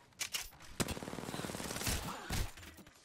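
Gunfire in the video game Apex Legends: rapid automatic bursts with sharp single shots between them, a dense crackling fusillade at moderate loudness with nobody talking.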